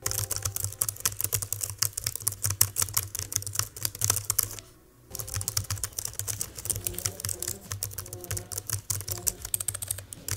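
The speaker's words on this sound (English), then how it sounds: "the mechanical keyboard is fairly loud." Rapid clacky typing on the mechanical keyboard of a CUK Model Z laptop, dense loud keystrokes in a continuous stream with one brief pause near the middle.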